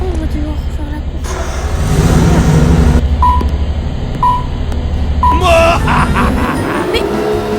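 A car race in a video game gives a droning engine note that swells and eases, with a string of short electronic beeps near the middle and a burst of game noise at the end.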